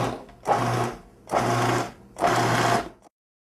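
A food processor pulses pastry dough made with cold water in three distinct motor bursts of under a second each, separated by short pauses, loud and close with no talking.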